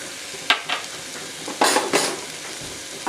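Drumstick pods and softened onion are stir-fried in a pan, short bursts of scraping and tossing breaking over a low steady sizzle, close and distinct, several strokes in quick succession, without speech.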